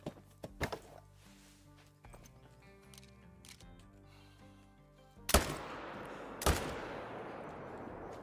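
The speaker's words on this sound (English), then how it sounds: "We're gonna shoot those two." Two sharp, loud hunting rifle shots from theHunter: Call of the Wild crack out a second apart, each with a short echoing tail, after a quiet stretch under soft background music.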